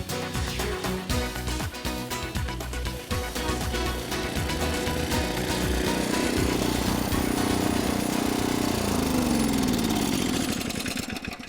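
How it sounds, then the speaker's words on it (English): A gas-powered power rake dethatcher is working a lawn in early spring, giving a steady loud mechanical engine drone with rattling tines that holds constant throughout, and no talking. "This is also known as a power rake and a dethatcher."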